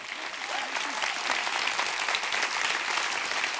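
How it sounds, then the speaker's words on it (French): A corporate conference audience at L'Oréal breaks into loud, sustained applause and cheering, a dense steady wash of many hands clapping that fills the room from start to finish. "On peut l'applaudir Un maximum de bruit"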